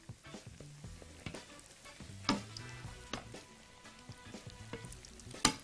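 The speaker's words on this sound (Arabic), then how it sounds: "نبدا نطلع عندنا الدوناتس قدام حضراتكم اهوت، نقلب على الوش التاني" Donuts frying in moderately hot oil and being turned over, a quiet, steady sizzle broken by soft clicks and taps of a utensil, with no talking.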